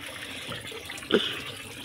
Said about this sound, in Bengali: আর এই আমার এই টাইম কলে জল এসে গেছে, কলটা বন্ধ করে দিই, জলগুলো নষ্ট হচ্ছে